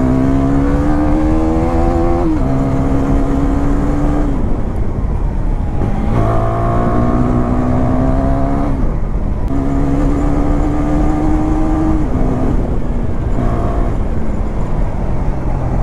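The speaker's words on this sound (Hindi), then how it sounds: "स्टॉक एग्जॉस्ट से सूदिंग साउंड किसी और में नहीं है। ये जो स्टॉक एग्जॉस्ट का जो एक एग्जॉस्ट नोट है" KTM motorcycle on its stock exhaust, engine note rising loudly through the gears in repeated climbing sweeps while riding, each shift dropping the pitch, steady wind-free and close with no talk.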